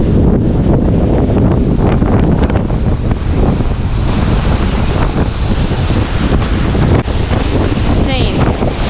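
Big waves and strong wind on Lake Michigan during a storm warning, steady loud roar of surf with heavy wind buffeting the microphone throughout, voices faintly mixed in.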